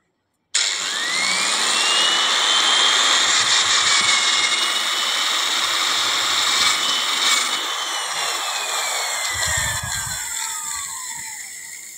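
A power drill whines close by and loud, its motor pitch sliding up and down as it bores through material, then easing off near the end.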